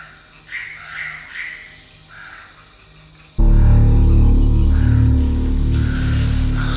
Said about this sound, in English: just the sound of frogs and insects hardly inviting